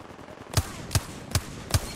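Charge rifle firing in Apex Legends, four sharp loud shots spaced about every 0.4 seconds, each a bright cracking blast with a low thump, over a steady low game-ambience bed.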